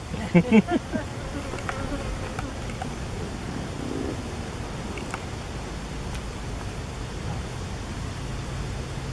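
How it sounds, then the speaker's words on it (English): A steady, close buzzing of bees fills the whole stretch, with a few louder thumps and rustles near the start. "Come on, bees, get out of there."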